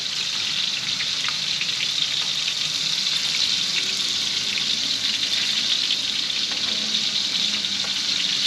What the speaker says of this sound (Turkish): tekrardan balıklarımızı kızartmaya devam edeceğim